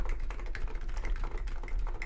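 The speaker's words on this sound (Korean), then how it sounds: "이렇게 타이핑을 막 하다가도" Rapid mechanical key clicks from a Vortex Poker 3 keyboard, a close, steady flurry of typing strokes with no voices.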